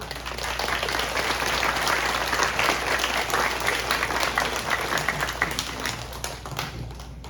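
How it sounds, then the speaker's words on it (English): An audience at a Veterans Day celebration on Siesta Key applauds veterans with a steady, dense round of clapping that holds for several seconds, then thins slightly toward the end. "Let me give you a round of applause as well."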